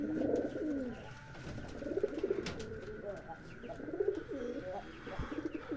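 Several throaty pigeon coos, low and rolling, repeat in bursts close by, with a faint steady hum and a few clicks behind them.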